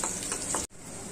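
Garlic fries in a pan of oil, a steady close sizzle and crackle with a brief cut partway through before the hissing continues.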